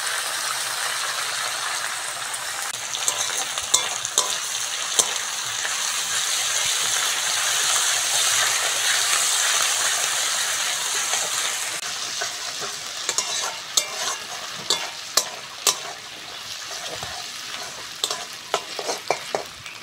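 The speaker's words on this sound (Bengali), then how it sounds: "পেঁয়াজ ভালো করে ভেজে নিয়েছি, এবার আদা রসুন বাটাটা দিয়ে দেবো।" Onions fry in a pan with ginger garlic paste, a steady close sizzle with a spatula stirring and scraping, and sharper scraping clicks in the later part.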